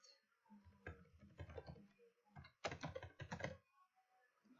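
A password is typed on a computer keyboard in a few short bursts of close, crisp key clicks separated by gaps, quiet overall and with no speech.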